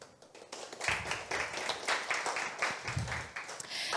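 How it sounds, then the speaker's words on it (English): Applause from the audience at a startup pitch event, a few seconds of moderately loud, uneven clapping that swells and pulses, heard without speech. "So applause, please."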